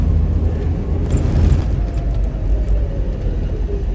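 Suzuki Samurai with a 2.0L engine swap and spring-over-axle suspension driving, a loud close low engine drone and road rumble heard from inside the cabin, steady throughout.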